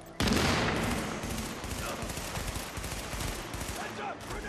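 Grenade blast and combat in Tom Clancy's The Division video game: a sudden loud burst followed by sustained dense gunfire and crackling explosions throughout.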